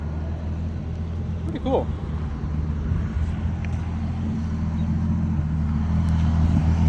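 A turbocharged Pontiac Fiero engine idles in a steady low rumble throughout, with a person talking briefly over it.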